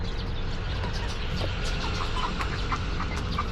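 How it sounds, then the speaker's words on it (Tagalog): Chickens cluck and peck in a backyard coop, busy sounds running steadily throughout over a dense rural background hum, fairly close. "Si Bansot hari-hari, eh dami ng tuka nito."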